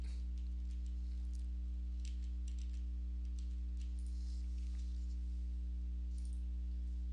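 Typing on a computer keyboard makes soft, faint key clicks in short irregular bursts, heard over a strong, steady low electrical hum.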